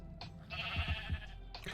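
Sheep bleating in the Minecraft block game, a few short low calls around the middle, moderately close and clear, with a brief sharper interface-like tone at the start and end.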